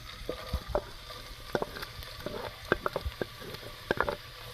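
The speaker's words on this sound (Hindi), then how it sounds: "घी गर्म हो चुका है, अब हम इसमें प्याज डाल लेंगे।" Onions drop into hot ghee for a tandy chicken dish, giving a soft, steady sizzle dotted with irregular pops and crackles at moderate volume close by.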